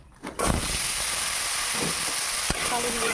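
Nigella seeds dropped into a little hot oil in a pan, a sudden loud sizzle that starts sharply and then holds as a steady bright hiss, with a faint stir partway through.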